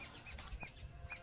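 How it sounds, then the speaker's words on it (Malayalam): A few harsh, squeaky jungle babbler calls repeat at short intervals over faint background noise, sounding fairly close. "കരികലപ്പട കിടന്ന് ഒച്ച കേൾപ്പിക്കുന്നതാണ് ആ ഒച്ച കേൾക്കുന്നത്"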